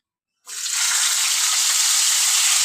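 Bitter gourd hits hot oil tempered with cumin in a pan and sets off a sudden loud hiss that holds as a steady, dense sizzle close by, with no talk.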